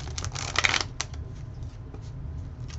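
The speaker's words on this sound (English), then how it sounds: "So I'm going to try to shuffle these." A thick tarot card deck is shuffled in a couple of quick papery riffles, close and crisp, followed by softer card rustling, with no talking.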